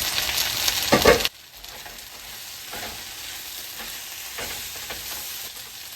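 Fish chilli curry being stirred in a frying pan: a loud scraping stir in the first second, then a softer steady sizzle with a few faint stirring scrapes, no voices.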